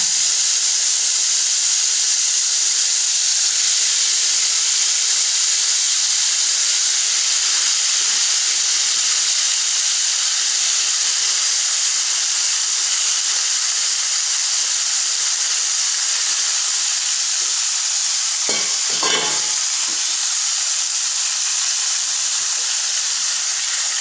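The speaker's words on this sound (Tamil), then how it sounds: "காளானை நல்லா வதக்குங்க." Mushrooms sautéing in a hot pan for mushroom kuruma give a loud, constant steamy hiss close by, with a brief stir or clatter near the end and no speech.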